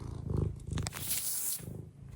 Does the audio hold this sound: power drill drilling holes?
no